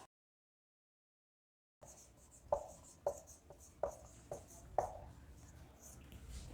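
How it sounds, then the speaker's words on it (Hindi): After a stretch of silence, a marker or chalk writes on a classroom board during a Sanskrit lesson, giving about six distinct strokes or taps in an uneven rhythm, faint and close, with no talk. "मैं बोर्ड पर लिख देती हूँ"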